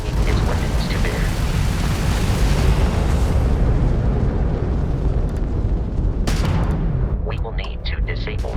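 Crimson Fleet ship weapons fire in the video game Starfield: a continuous loud roaring rumble of blasts and explosions, dense and sustained, with brief crackles near the end.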